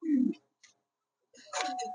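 Giribaz pigeons cooing close by, a short low coo, a pause, then a fuller burst of cooing and soft calls.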